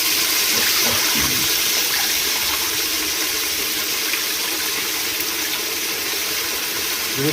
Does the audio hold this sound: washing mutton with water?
yes